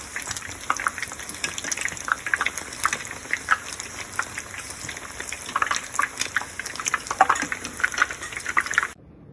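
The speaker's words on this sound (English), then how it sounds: "all the eggplants have been finished frying" Eggplant slices sizzle in hot oil with a steady, close crackle and irregular spitting pops, continuous throughout and without talk, stopping abruptly at the end.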